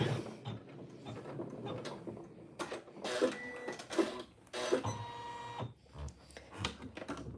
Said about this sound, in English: You just press start. And it's going to stitch all the way down.